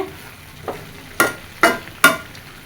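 Curry being stirred as it fries in a pan, its spices cooking down in released juices, with three sharp scraping stirs in quick succession over a low background sizzle.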